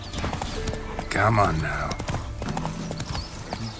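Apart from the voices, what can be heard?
horse Roach trotting, clip-clop hooves, video game The Witcher 3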